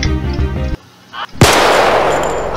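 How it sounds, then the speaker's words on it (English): Gunfire in a Roblox Murder Mystery game: a loud, dense burst, a brief drop to near silence, then a sharp blast with a sustained, roaring noisy tail, close and loud with no talk. "Wait, somebody shot it. I heard the gunshot."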